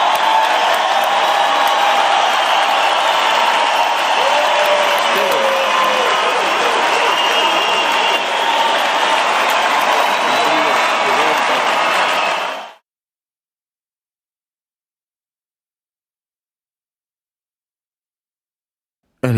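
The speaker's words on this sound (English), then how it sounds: "Put in a round of applause here," A round of applause dropped into a podcast: a steady, loud crowd wash of clapping and cheering that holds evenly for about twelve seconds, then cuts off abruptly into silence.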